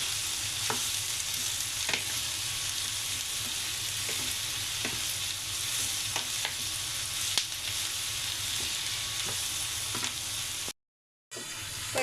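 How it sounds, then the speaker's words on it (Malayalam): Carrot, cabbage, green chilli, spring onion, onion and capsicum stir-fry in a hot pan, sizzling steadily with regular scraping and tossing knocks. The sound stops briefly near the end, with no talking. "ക്യാപ്സിക്കം കൂടെ ഇട്ട് ഇത് മിക്സ് ആക്കി കൊടുക്കണം."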